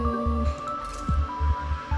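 In the video game Rumu, a plant is watered, giving a series of soft, wet squishing and dripping pulses in a quick irregular rhythm, close and fairly loud over a steady tonal game hum.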